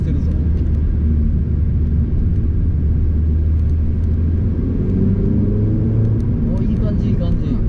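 Engine of a Honda Civic Type R or Renault Megane RS, a front-wheel-drive hot hatch with a 1.8-litre unit, driven in race mode. Steady, loud low rumble heard from inside the cabin, with a voice talking over it.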